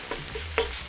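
Vermicelli with spicy minced pork belly is stir-fried in a wok, a quick sizzle with a clack of the spatula against the pan, close and brief.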